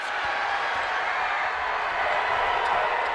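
Basketball arena crowd giving a sustained ovation to a senior player, a steady wash of cheering and clapping that holds level and fairly loud for the whole stretch.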